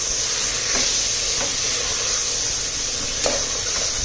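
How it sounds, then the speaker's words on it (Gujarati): Potatoes, carrots and peas are stirred into a sizzling pot of shahi masala khichdi, a constant close frying hiss broken by occasional spoon scrapes and knocks. "આ બધું આપણે એડ કરી દઈશું અને ફરી પાછું એને હલાવી દઈશું"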